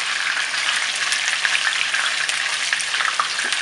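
Catfish frying in a pan for Cambodian sweet and sour soup, giving a steady, close, loud sizzle with crackling throughout and no talking.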